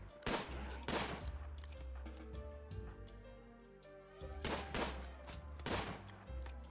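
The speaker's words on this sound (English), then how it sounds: "Okay, good suppressing fire." Suppressing gunfire in Rimworld, sharp bursts of several shots each that come in separate volleys, loud and close, with quieter gaps and a low ambient game drone between them.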